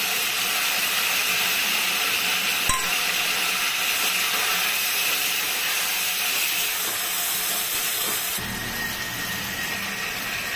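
Tomato puree hitting hot cumin, coriander, turmeric and Kashmiri chilli masala in oil, a loud steady hiss and sizzle, close up with no voices, with a brief clunk partway through.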